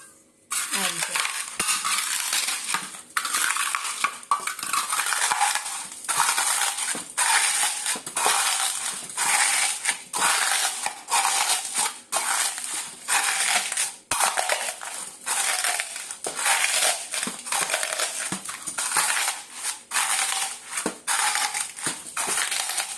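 Fried sago pearls are crushed in a grinder in a long, loud, harsh whirring burst that runs nearly the whole time, broken by short pauses and rattling stops.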